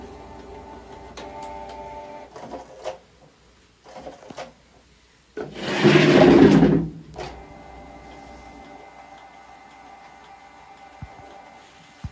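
A Canon G3000 inkjet printer runs with scattered clicks and mechanical ticks, then a louder whirring burst of feeding and printing lasting about two seconds before quieter clatter returns.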